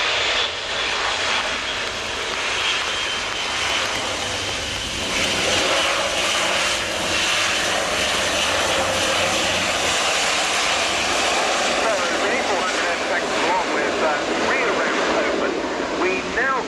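An Airbus A400M Atlas turboprop military transport flies a display at the RIAT 2017 airshow. Its propellers and engines give a loud, sustained roar that swells and shifts as it passes, with a broad rushing hiss that never lets up.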